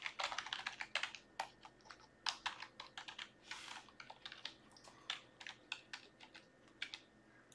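Someone typing on a computer keyboard, quick irregular clusters of quiet key clicks close by with short pauses between bursts.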